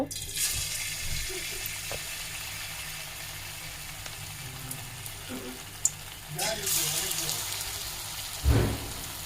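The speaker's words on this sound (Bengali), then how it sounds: "এই দেখুন পাকোড়াগুলো দিয়ে দিলাম এখন লাল করে ভেজে নেব" Cabbage and noodle pakoras frying in hot oil give a steady, close sizzling hiss throughout, swelling into a louder crackling burst near the end, with a voice faintly present.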